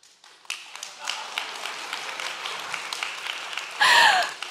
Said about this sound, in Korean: 이 시점에서 박수가 나올 줄 몰랐는데 감사합니다